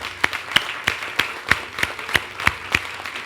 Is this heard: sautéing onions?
no